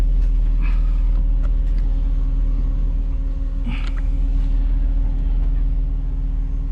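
A BMW E30 car runs with a steady low engine rumble and droning hum throughout, a few faint clicks and squeaks rising over the constant tone.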